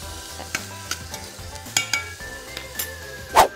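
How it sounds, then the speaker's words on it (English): Rice with raisins sautés in a pan on high heat, a steady sizzle broken by scattered stirring scrapes and clinks of a utensil against the pan, close up with no talking. "Turn this up on high. Let that saute for a little bit."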